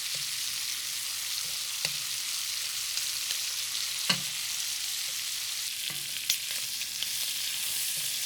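Shrimp and asparagus stir-fry crackles in a hot pan with a steady, even sizzle, broken by a few brief clinks and scrapes of stirring; no one speaks.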